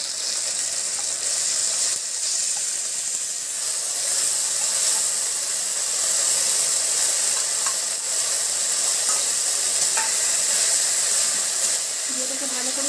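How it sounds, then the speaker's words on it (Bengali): Onion, ginger and garlic paste fries in a pan for a fish malai curry, a constant hissing sizzle with faint scrapes and clicks from stirring, steady and close. "তো আমি কিছুক্ষণ নেড়ে এবার এর মধ্যে আমি দিয়ে দেবো পেঁয়াজ আদা রসুনের পেস্টটা"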